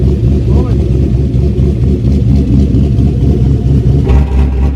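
A turbocharged Chevrolet Colorado with a bed-mounted turbo and tailgate-exit exhaust, run without a muffler, gives a loud, deep rumbling engine roar that swells toward the end, heard up close alongside talking voices.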